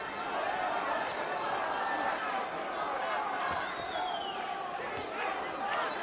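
A Puerto Rican crowd chants at a WBC light welterweight title boxing match, a steady, loud wall of massed voices and cheering filling the arena throughout.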